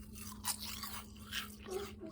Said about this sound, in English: You can hear that little crisp. So they're nice, little crunchy.